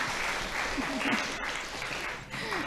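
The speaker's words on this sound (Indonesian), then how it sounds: "tepuk tangan dulu buat divisi multimedia" An audience at an educational knowledge-sharing session claps for the multimedia team, a moderate burst of applause with some voices and murmuring mixed underneath throughout.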